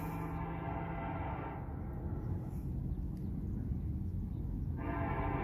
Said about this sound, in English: And there's a big train coming.